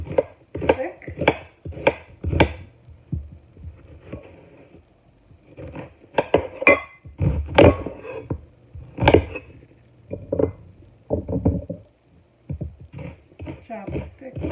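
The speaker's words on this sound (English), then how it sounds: "Chop it thick. We need big chunks of it, of the vegetables." Onion cut into thick chunks with a knife on a board, with repeated close choppy knocks arriving in clusters throughout, while a person talks over them.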